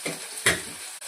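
Oil heats on a tawa for frying paneer, with a faint, close sizzle broken by one quick stirring scrape near the middle.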